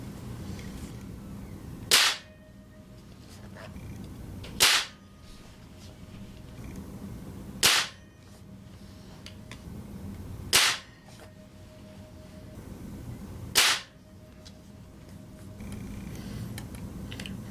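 Umarex Octane .22 gas spring pellet rifle fires Crosman SSP 9.5 grain alloy pellets: five sharp, loud cracks roughly three seconds apart, each followed by a brief ring, with quiet room noise between shots.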